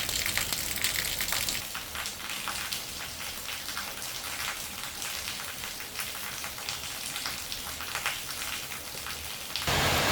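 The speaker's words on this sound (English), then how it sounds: "At 5 p.m., the rain became much heavier." Steady, dense monsoon rainfall in Vietnam pours down without a break during flooding, a broad hiss of drops hitting surfaces, slightly louder at the very end.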